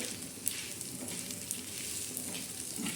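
Bay leaf, coriander seeds and whole spices roast in a pan with a soft, continuous crackling sizzle and a few small pops, fairly faint and without talk.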